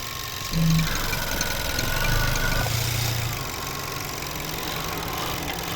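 A 2018 Buick Cascada's 1.6 turbo petrol engine idles with the hood open, giving a smooth, quiet, steady hum with faint whirring and a brief tonal rise partway through.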